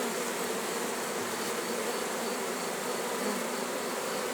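Honey bees hum densely and continuously around a bucket as a young queen goes inside it during colony splitting from log hives, a loud, steady, close swarm drone without pause.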